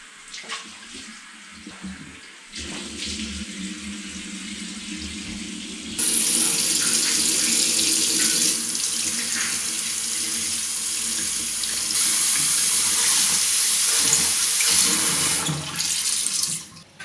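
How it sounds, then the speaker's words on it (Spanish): Running tap water pours steadily onto a konjac sponge to soften it, a close, hissing stream that starts softly, then grows louder and fuller for about ten seconds before cutting off. "vamos a humedecer la esponjita para que se ponga blandita"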